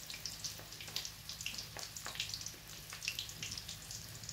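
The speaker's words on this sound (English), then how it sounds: "Make our crunchy chicken, and at first you can see the oil is hot, so we're going to allow it to get in" Chicken pieces frying in hot oil for crunchy chicken, with soft, scattered crackles and pops over a quiet, watery bubbling background.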